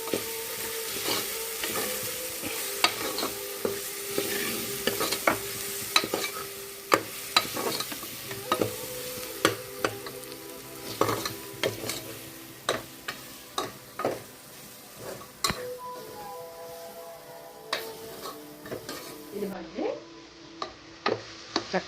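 Ginger garlic paste fries in ghee and peanut oil under a steady close sizzle, with frequent scraping and tapping as a spoon stirs the pan.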